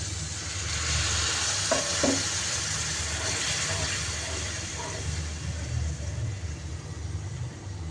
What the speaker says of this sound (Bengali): পেঁয়াজটা এখন আমি হালকা করে লাল করে ভেজে নেব